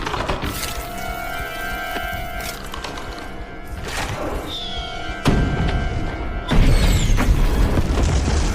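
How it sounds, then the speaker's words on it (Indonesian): New Year fireworks go off in a tense film scene: quiet, eerie tones first, then two heavy booms a second apart, each followed by sustained crackling rumble. "Bersamaan dengan kembang api tahun baru yang Marley nyalakan, Evelyn mulai mengerahkan seluruh tenaganya"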